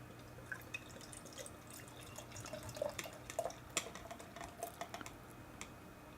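Green Flash Imperial IPA fizzes and crackles in a glass after pouring, a quiet stream of tiny popping bubbles and drips close by, with no talking.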